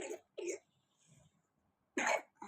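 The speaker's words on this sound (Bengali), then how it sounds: "আরে কাশি, কাশি সারে না রে" Several short, sharp coughs from a person with a lingering cough, two close together at the start and a louder one near the end, separated by quiet.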